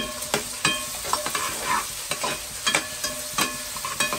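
Garlic frying in a pan with a constant hiss of hot oil, punctuated by frequent sharp scrapes and clinks of a spatula stirring, close and clear.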